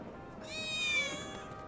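A single short cat meow from the Final Fantasy VII Remake game, clear and mid-distance over a low ambient game backdrop.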